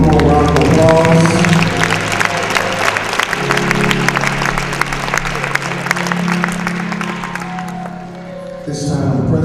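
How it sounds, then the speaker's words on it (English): An audience at a Martin Luther King Day celebration applauds award recipients, dense clapping with low steady tones and voices underneath throughout. "Let's give all of our recipients one more round of applause."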